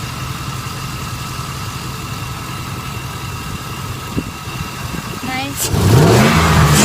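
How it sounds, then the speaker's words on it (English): An LSX-swapped Chevy car engine idles with a steady rumble, then is revved hard near the end, rising to a loud roar; a voice speaks briefly over it. "I'm revving it up like a crazy person"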